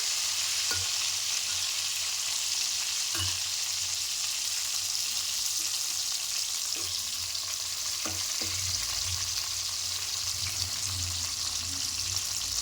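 Cauliflower pieces fry in hot oil, producing a steady close sizzle throughout, punctuated by intermittent low knocks and scrapes of stirring, with no talking.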